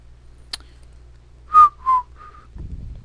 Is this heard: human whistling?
yes